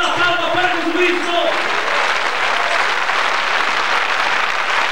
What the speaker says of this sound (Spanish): Arriba todas las palmas para el Señor Jesús.